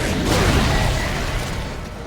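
Dense, rumbling blast from an exploding enemy in the Dead Space video game, a loud broadband roar that starts at full strength and slowly fades across the whole clip.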